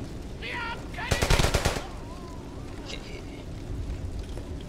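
A short burst of rapid machine-gun fire sounds in the World War II shooter game Brothers in Arms: Hell's Highway. It rises over steady battle ambience, with faint distant shots and a voice-like tone before and after the burst.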